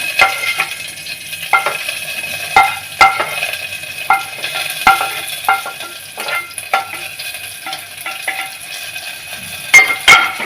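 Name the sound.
sautéing onions with fenugreek, cumin and green chili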